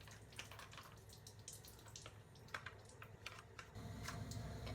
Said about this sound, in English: I'm going to take that and just drain that into the sink.